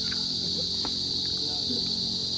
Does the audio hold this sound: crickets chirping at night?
yes